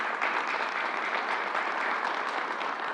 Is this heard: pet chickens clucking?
no